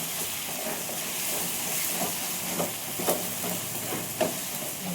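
Spicy chicken roasts in a pan over a low flame, giving a steady close hiss and sizzle with occasional crackles and stirring scrapes.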